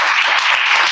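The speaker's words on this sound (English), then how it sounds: "can we just have a round of applause for her?" An audience at a women in machine learning meetup applauds in a brief, loud, continuous burst of dense clapping.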